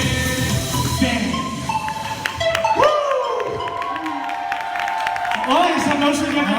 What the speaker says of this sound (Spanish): ¡Oh, ese aplauso ya me ha gustado más!